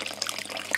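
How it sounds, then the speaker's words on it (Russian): Water poured into a small fountain, a short, close, bubbling trickle lasting under a second. "Давай еще воды немного подольем."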